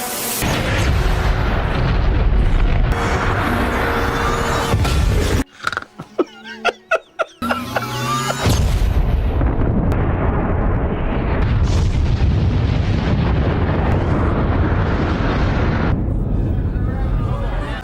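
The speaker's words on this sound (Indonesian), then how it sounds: "Setelah kelima bom meledak" Deep, heavy booming blasts of five bombs exploding rumble loudly and continuously, broken by a short gap of sharp crackling pops before the roar returns.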